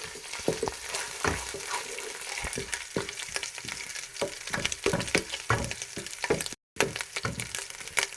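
Vegetables frying with garlic paste in a pan until light brown, a continuous crackling sizzle broken by repeated stirring scrapes and clinks, close and alone with no talk.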